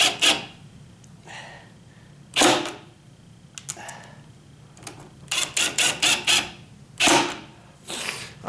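A ratcheting drill driving screws during condo door work, giving repeated short raspy bursts in quick clusters, close and fairly loud, with quiet gaps between.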